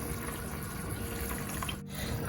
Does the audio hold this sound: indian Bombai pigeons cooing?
no